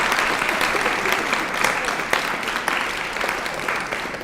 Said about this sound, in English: A round for the applause.